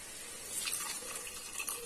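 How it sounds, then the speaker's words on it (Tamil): About 200 ml of water is poured into a pan of brinjal gravy cooking on the stove, giving a quiet, soft splashing trickle for a couple of seconds with no voices. "ஒரு 200 ml தண்ணி ஊற்றிருக்கேன்."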